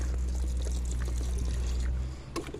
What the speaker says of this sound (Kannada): ಇದು ಇವಾಗ ತಯಾರು ಮಾಡ್ಕೊಂಡಿರೋ ಲಿಕ್ವಿಡ್ ಹಾಕ್ತೀನಿ